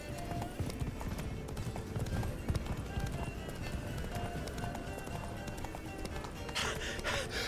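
Roach the horse from The Witcher 3 gallops with steady clip-clop hoofbeats over a continuous game mix, with a snort or whinny near the end.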